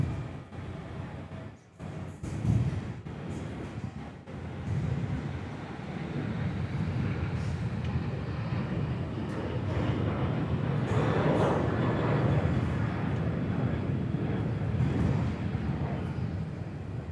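A Qantas airliner, flight 936 bound for Brisbane, departs Perth Airport, its engines rising into a sustained, distant rumble that builds and holds, with wind buffeting the microphone early on.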